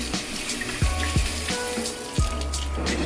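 Tap water runs steadily into a sink for hand washing before cooking pork chops, a constant close splashing stream with a few soft knocks underneath.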